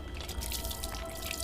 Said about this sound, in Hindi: पानी पियोगे? मैं डाल के देती हूँ।